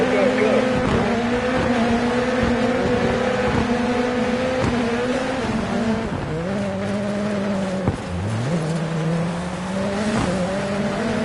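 Hoonigan Ford Focus rallycross cars in the DiRT 4 video game roar steadily at the start of a World Rallycross race, engine tones rising and dropping through gear changes, with a voice talking over the engines.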